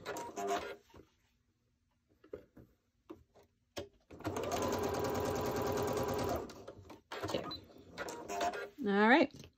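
Sewing machine stitching quilt blocks: one loud, fast run of stitching for about two and a half seconds, framed by scattered clicks, fabric handling and a person talking before and after.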